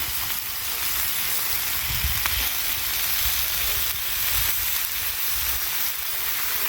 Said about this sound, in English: Alright, we've got our pound of bacon on there. I just got this set on low.